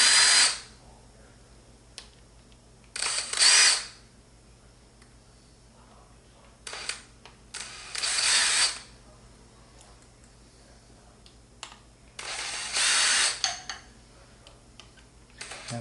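A power screwdriver backs screws out of a Daelim bidet as it is taken apart, with several separate bursts of whirring spread across a quiet room, each lasting a second or so.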